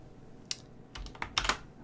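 Keys tapped on a computer keyboard, a few close, light clicks in a brief irregular cluster with quiet pauses between.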